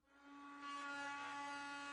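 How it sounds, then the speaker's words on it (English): A Drill Doctor sharpener grinds a drill bit, giving a steady, even motor whine with a high tonal hum and a gritty grinding layer that runs unbroken throughout. "Listen carefully to the sound your drill doctor makes"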